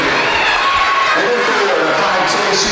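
A steady wash of crowd noise and cheering fills a high school gym during a girls basketball playoff game at Groton Area High School, continuous and fairly loud, with a commentator talking over it.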